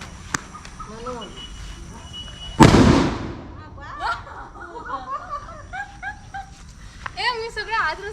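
A firecracker rope bomb explodes once, sharp and loud, during a village Diwali celebration, with a dog barking before and after it amid excited voices and laughter.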